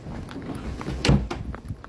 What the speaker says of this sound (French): j'ai même pas fermé la porte